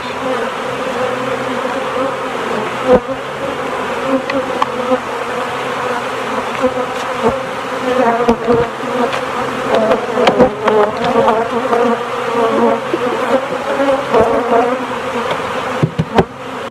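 Dense buzzing of many honeybees close by during honey super removal, a continuous droning hum with individual bees zipping past.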